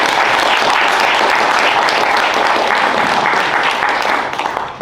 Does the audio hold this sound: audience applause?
yes